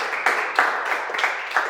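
Live audience applause at a Marathi storytelling and poetry performance, a steady wash of many hands clapping with several louder surges, no talking over it.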